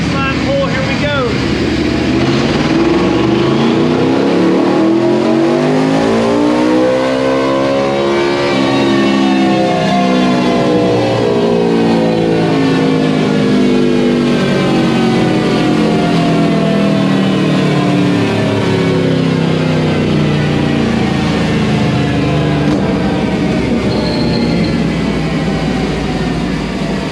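A 2019 Yamaha VMAX engine revs hard on a dyno during a baseline pull, a loud sustained roar climbing steadily in pitch through the gears, heard close with a voice over it.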